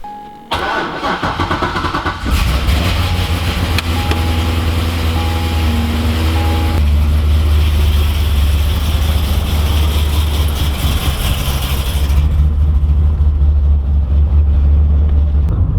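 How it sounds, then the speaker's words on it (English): A Corvette engine cranks and fires, then settles into a steady, loud, deep idle that runs without a break for the rest of the stretch, with no voices over it. "So I'm going to fire up the Corvette, get it in the other garage"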